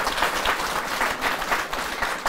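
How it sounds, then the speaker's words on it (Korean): Steady, dense applause from an audience welcoming a guest at a Buddhist monk's talk, loud and continuous throughout without any speech. "네, 박수로 맞으세요"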